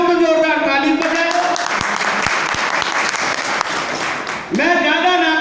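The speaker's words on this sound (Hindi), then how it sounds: "तो मैं अगर मैं ठीक कह रहा हूँ तो जोरदार ताली बजाए।" A crowd at a political party gathering marking Lala Lajpat Rai's birth anniversary bursts into loud clapping, framed by a voice speaking before and after the applause.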